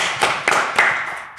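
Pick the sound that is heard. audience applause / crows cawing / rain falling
audience applause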